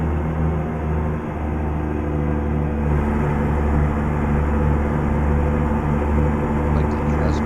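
A Kenworth T680 truck engine drones inside the cab in American Truck Simulator, a loud, steady, low humming rumble with layered tones that holds constant without noticeable revving.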